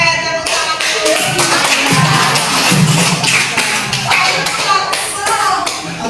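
A group claps hands in a quick, steady rhythm, many sharp slaps overlapping close by, with a murmur of voices underneath.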